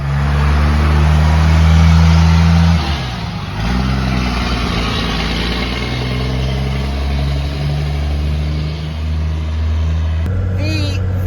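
A Chevrolet Suburban engine drones steadily while towing a trailer at highway speed, around 1500 RPM, a constant low hum with a voice talking over it.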